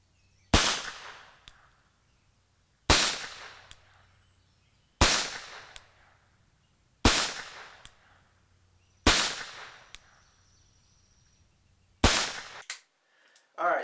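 Six loud, sharp gunshots from a Webley & Scott Mark IV .38 S&W revolver fired outdoors, spaced about two seconds apart, each ringing off briefly, followed by a faint clatter.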